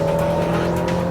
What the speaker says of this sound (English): The engine revs so easily.